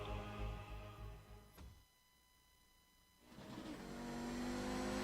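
Race car engine from the GSRC Audi lapping Road Atlanta in the iRacing sim game, loud and close, dropping off under braking for about a second before revving hard back up.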